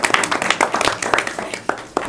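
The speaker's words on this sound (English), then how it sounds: "Clap for him because he had." An audience claps at a speech event, a brief burst of scattered, uneven hand claps close by, loud and irregular for about two seconds.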